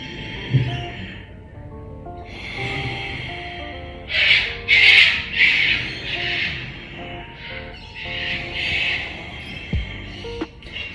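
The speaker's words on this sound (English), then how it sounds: "the Ujjayi breath is heating us up from the core, using the breath" Slow, audible ujjayi yoga breaths with a soft hissing, ocean-like rasp, rising and falling in long cycles close to the listener, with faint background hum.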